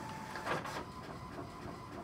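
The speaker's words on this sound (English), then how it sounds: "Excuse that noise, guys. That is my printer." A printer whirs and grinds mechanically for a couple of seconds, a steady droning rumble with a brief louder sweep.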